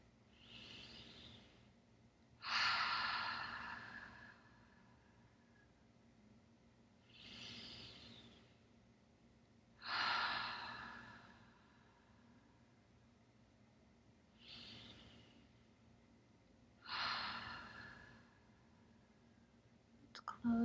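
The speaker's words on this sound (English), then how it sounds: "deep inhale through the nose and exhale through the mouth with me" Slow guided meditation breathing, deep inhales through the nose alternating with long, airy exhales through the mouth, three full cycles, close and soft against a quiet hum.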